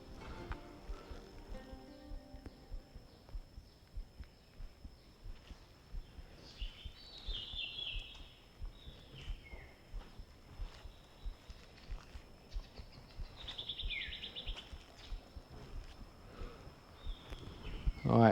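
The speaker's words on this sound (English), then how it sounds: "all you can hear is the birds" Birds sing and chirp in a quiet Angkor Wat temple courtyard, bright scattered calls over a hushed ambient background with occasional footsteps or light movement nearby.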